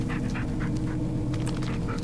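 A dog companion in the Blair Witch game pants in quick, rhythmic, breathy bursts, close up, over a steady low rumble of ambient noise.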